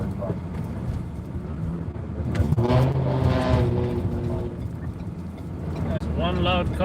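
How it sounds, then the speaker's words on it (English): A loud camouflage-painted car drives past on a New York City street, its engine roaring and rising in pitch as it nears, with steady traffic rumble beneath and a voice talking over it. "one loud car, that camouflage car."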